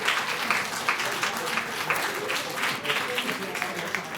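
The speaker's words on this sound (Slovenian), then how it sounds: "Aplavz torej za dobro poznavanje kavitacije." Brisk applause from a pub quiz crowd, steady clapping with faint voices mixed underneath from start to finish.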